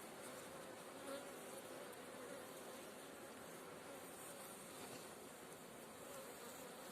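Dense, steady buzzing of many honey bees at the hive, continuous and close, filling the whole stretch with no voices.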